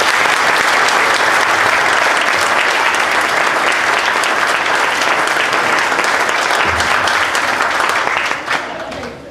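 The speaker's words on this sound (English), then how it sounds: "We have a big round of applause." A big round of applause from the audience at a district attorney candidate forum fills the room, steady and dense for about eight seconds before tapering off near the end.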